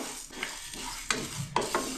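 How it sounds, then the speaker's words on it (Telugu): Sesame and fenugreek seeds are dry roasted in a pan, stirred with a spoon, giving a soft dry rustle with a few sharper scraping strokes close by. "నూగులు మెంతులు ఇవన్నీ 2 స్పూన్లు వేసి బాగా వేయించుకోవాలి"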